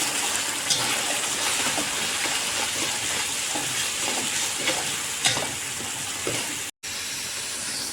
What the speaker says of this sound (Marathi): कांद्याची पेस्ट अशी आपण लाल होईपर्यंत छान अशी परतून घ्यायची आहे.